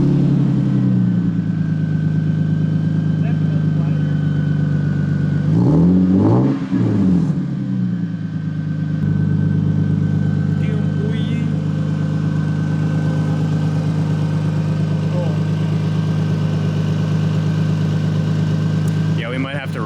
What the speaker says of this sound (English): First startup with an exhaust leak and a new muffler.